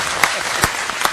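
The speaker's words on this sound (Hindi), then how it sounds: "आप ताली वाली बजा के बताओ तो लगेगा हाँ यहाँ कर दी।" Scattered claps ring out from an audience at a Bharatiya Janata Party workers' conference, a few separate sharp hand claps at an uneven pace.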